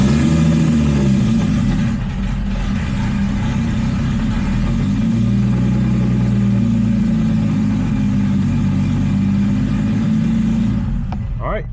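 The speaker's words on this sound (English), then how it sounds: "So let's fire this thing up. Hopefully it runs well without a miss." An Infiniti G35 engine runs steadily and loudly up close, a continuous deep mid-pitched drone with little change in level, holding for several seconds before easing off at the end.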